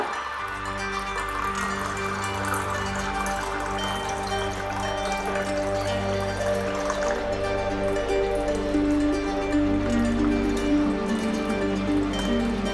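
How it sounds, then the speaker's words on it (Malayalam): Spiced buttermilk poured steadily into a serving glass, a continuous close liquid splash and trickle with a faint rising tone as the glass fills, no talking. "നമുക്കിത് സെർവിങ് ഗ്ലാസ്സിലേക്ക് ഒഴിക്കാം"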